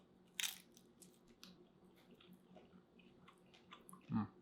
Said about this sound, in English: Good crunch, good chew on the crust.